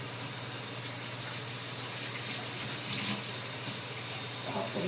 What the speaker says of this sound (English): So let me just rinse this.